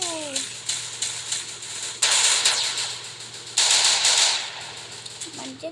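Gunfire in the Free Fire video game: quick bursts of automatic shots and two longer, dense volleys, loud and close over a steady game hum, with brief voice sounds at the edges.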